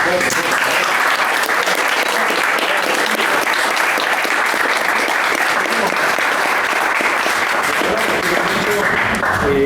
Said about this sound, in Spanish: yo les puedo pedir un aplauso para ellos.